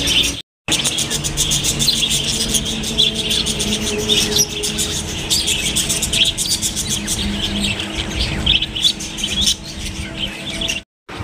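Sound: birds chirping near temple bird cage

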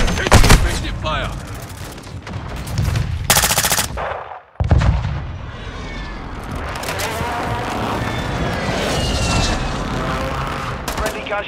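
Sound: airstrike and gunfire in the video game Call of Duty: Modern Warfare II

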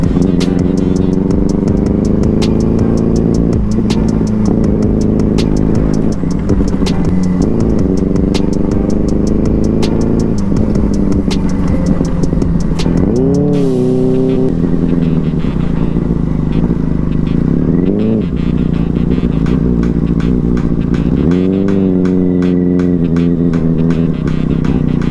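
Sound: Benelli 600i motorcycle riding off-road on a bad road

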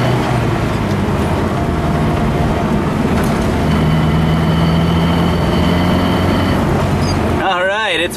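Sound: gasifier-powered truck engine while driving

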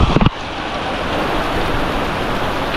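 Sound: heavy rain on Cam mountain

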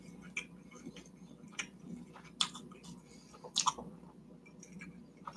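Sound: chewing dakgangjeong fried chicken while eating

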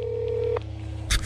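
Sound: phone dialing tones

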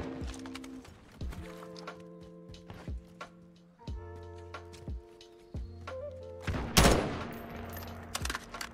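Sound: shotgun fire from a video game (Modern Warfare 2)

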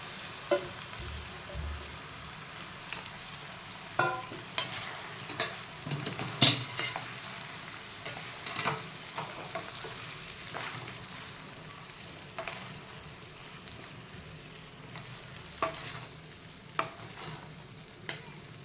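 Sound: sabudana and potatoes being stirred in a pan for khichdi

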